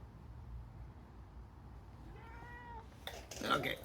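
A cat lets out a couple of faint drawn-out meows outdoors on a hot 30-degree day during car seat upholstery work, rising toward the end over low background rumble.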